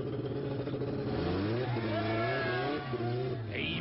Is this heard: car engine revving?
yes